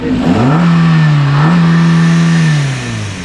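A car engine revs hard at a used vehicle lot, loud and close. It surges up, holds a steady high drone, then winds down toward the end.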